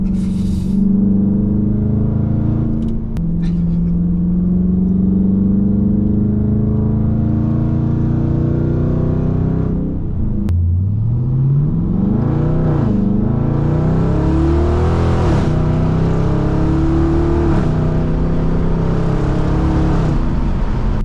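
A high-powered car accelerates hard, its engine note climbing in loud, near, sweeping revs with gear changes, a brief dip midway then rising again, with no talk.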